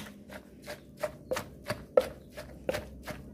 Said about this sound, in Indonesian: sekedar kita tumbuk sampai tomatnya tercampur sama sambal dan bawangnya